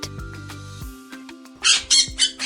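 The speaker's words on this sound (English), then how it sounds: "It's a parrot." A parrot gives several loud, harsh squawks in quick succession near the end, each one abrupt and close. Softer tonal sounds come before them, and no one speaks.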